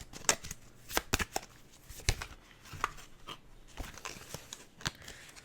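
A deck of tarot cards being shuffled in quick irregular bursts of riffling and slapping, close and fairly soft, with no talking.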